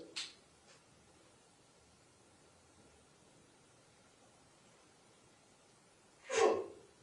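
A single sharp sneeze bursts out near the end of a quiet courtroom moment during a sentencing trial, following several seconds of low room hiss and a faint earlier breath.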